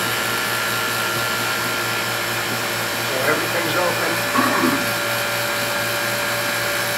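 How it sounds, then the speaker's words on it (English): A vacuum pump runs as a steady, even motorized hum throughout, close and constant, with a person speaking briefly partway through. "Eddie, would you please turn on the vacuum pump?"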